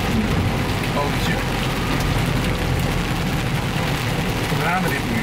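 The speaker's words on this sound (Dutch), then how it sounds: "Het gaat zo hard regen dat ik me afvraag of ik überhaupt wel droog aankom in dit kleine" Heavy rain pours down on a small boat, a dense, steady hiss and patter that stays loud and unbroken throughout.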